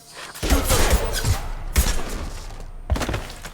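Gunfire erupts in the Mass Effect Legendary Edition video game, with loud, close bursts of shots and heavy impact thuds in quick succession, several sharp blasts standing out over a dense, noisy battle din.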